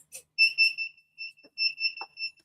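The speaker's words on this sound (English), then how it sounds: "hang on, that's our timer" Kitchen timer going off, a series of shrill, clear electronic beeps in short bursts with a few faint knocks and brief sounds between them.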